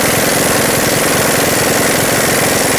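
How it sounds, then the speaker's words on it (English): Impact tool driving an 18mm socket to remove a sway bar link mounting nut on a 2000-2005 Ford Excursion, a loud, close, continuous rattling hammer that never lets up. "remove the mounting nut from the sway bar link on the bottom"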